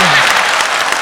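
An audience applauds in a brief, loud burst of dense clapping that fills the room.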